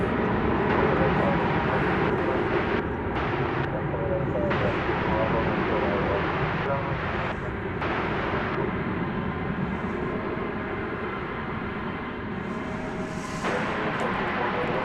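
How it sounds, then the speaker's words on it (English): An American Airlines Airbus A321 arriving from Orlando at DFW Airport produces a continuous, loud broadband rumble of jet engines, heard outdoors with voices talking over it throughout. "This coming in from Orlando, Florida. It's an Airbus A321."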